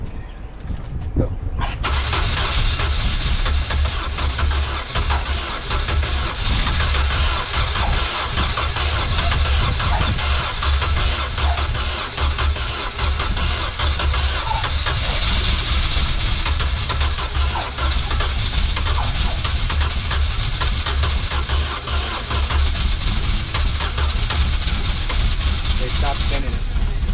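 A cheap used boat's engine is started with the key and kept going with the throttle, turning over then running as a steady, loud, rough mid-pitched drone for the whole stretch, with talk over it.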